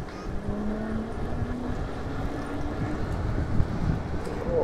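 An UNU electric scooter rides along at 22 km/h with a continuous rumble of road and wind noise and a faint rising motor whine.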